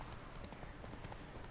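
Horse hooves clip-clopping in the video game Witcher 3, a steady, close rhythm of hoof falls with no one talking over it.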